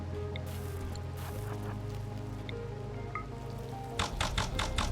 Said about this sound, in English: The rain doesn't help because it lowers the accuracy